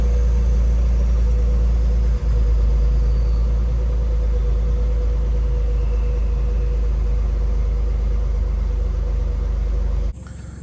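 A first-generation Ford F-150 with the 3.5 turbo engine runs steadily, giving a loud, even low rumble with a faint higher whine, until the sound cuts off abruptly near the end.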